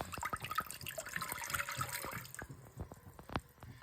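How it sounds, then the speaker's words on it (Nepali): Water splashes and pours into a wok set on the stove for cooking chicken without oil, a close gurgling stream with scattered drips and clinks, fading toward the end. "पानी हाले।"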